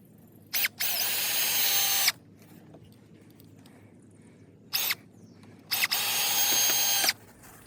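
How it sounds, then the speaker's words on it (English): A power drill drives screws into the corners of a wooden shed base, with three loud, close whirring bursts, two short and two long, separated by quiet pauses. "What we're gonna do now is screw all these corners in."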